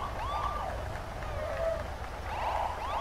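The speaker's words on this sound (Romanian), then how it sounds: "O să fac așa claxon de poliție?" A police siren wails in rising and falling sweeps, somewhat distant, repeating over a low background hum.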